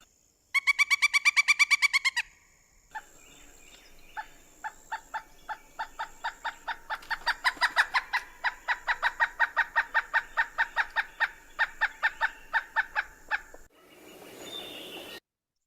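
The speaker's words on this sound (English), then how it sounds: "The pileated woodpecker is our largest woodpecker in Massachusetts." Pileated woodpecker, a large Massachusetts woodpecker, giving loud, rapid runs of ringing repeated notes, with one burst early on and a longer rhythmic series that builds and fades, heard clearly with no talk.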